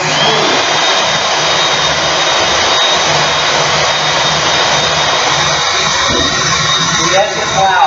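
A mixer whirs loudly and steadily through cream cheese, egg yolk and sweetener for a keto recipe, a constant broadband drone that holds without pause from start to finish.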